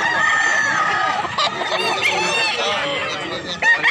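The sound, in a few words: rooster crowing at a Cebu market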